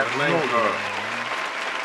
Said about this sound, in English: Put an applause on it.